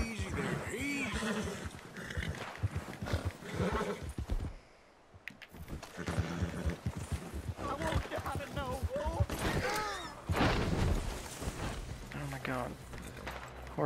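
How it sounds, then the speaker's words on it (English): Horse sounds in the video game Red Dead Redemption 2: hooves clip-clop and a horse whinnies repeatedly amid game music and effects, with a brief quieter gap midway and voices talking over parts. "Horse."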